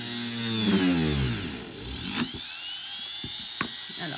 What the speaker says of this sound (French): je vais pouvoir commencer à percer mon premier trou.